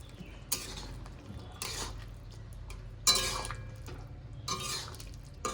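A spoon stirs potato and pointed gourd curry in a pan, four short bursts of scraping and wet sloshing over a low, steady kitchen background.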